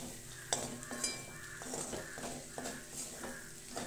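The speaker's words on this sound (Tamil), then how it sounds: "ஒரு 10 நிமிஷம் நம்ம இப்படி வறுத்துட்டே இருக்கலாம்" Mutton varuval with ground pepper and fennel stir-roasted in a pan over low flame, quiet scraping and clinking of a spatula against metal in uneven strokes over a faint sizzle, no talk.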